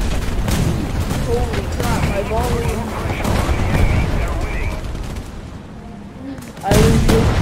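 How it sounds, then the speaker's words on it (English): Artillery shell explosions and gunfire in the War Thunder tank battle game, dense and loud throughout with heavy booming bursts, a sharp impact near the end, and a voice talking over the din. "I was hit by an artillery shell directly"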